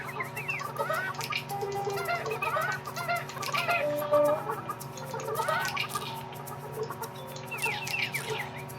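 Chickens cluck repeatedly in Burly Men at Sea, close and busy, several birds overlapping in short bursts over a low steady drone, with no talking.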